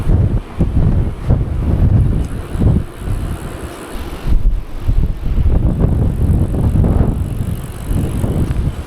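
Gusty wind at about 3,400 meters elevation in a canyon in China buffets the microphone in rumbling low bursts, rising and falling unevenly throughout, with no voices.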